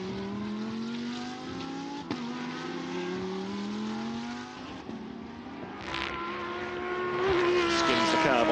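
A Lamborghini Super Trofeo race car laps the Portimao circuit during a race, its engine droning steadily through gear changes, braking and a rising note at the end, with a commentator talking over it.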